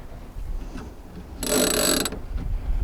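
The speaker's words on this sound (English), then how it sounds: "Now I'm going to lead the jib sheets through the ratchet block" A jib sheet pulled through a ratchet block while rigging a CFJ sailboat, a single short buzzing rattle of the pawl clicking as the line runs, close and fairly loud.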